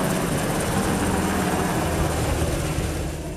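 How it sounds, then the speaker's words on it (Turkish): A helicopter hovers above a submarine during a NATO naval exercise in the Mediterranean, giving a loud, steady, broadband rotor and engine roar that fades slightly at the end, with no voices. "Denizaltıya harp anında ihtiyaç duyduğu gereçler helikopterle yukarıdan aktarılıyor."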